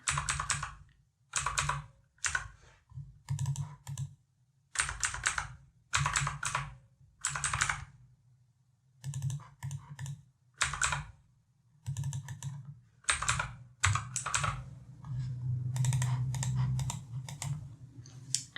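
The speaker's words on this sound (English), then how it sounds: "let me type those in." Close-up clicking of typing on a computer keyboard comes in quick bursts of keystrokes separated by short pauses, soft and intimate in a quiet room, with a slightly denser run near the end.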